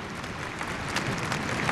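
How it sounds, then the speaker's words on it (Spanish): Crowd applauding along a state funeral procession in Madrid, a sustained, fairly distant wash of clapping that grows slightly busier toward the end. "Aplausos y gracias, presidente, es lo último que se escucha."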